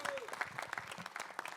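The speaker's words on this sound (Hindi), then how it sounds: "एक बार जोरदार तालियां इनके लिए" Audience clapping at a press conference for a Kumite 1 Warrior Hunt event, a short burst of scattered, moderately faint applause with some voices mixed in.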